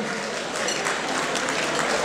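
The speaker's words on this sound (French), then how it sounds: "On applaudit." A crowd claps steadily and densely for about two seconds at an International Women's Day event, a fairly loud, even patter with no voices over it.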